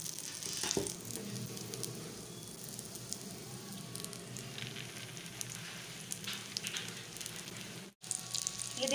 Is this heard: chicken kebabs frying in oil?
yes